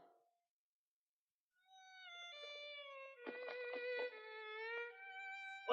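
A lady cat meows in a 1972 Muppet production, giving a drawn-out, wavering cry after a brief silence, then a louder warbling, tremulous stretch of meowing, close and alone with no talk.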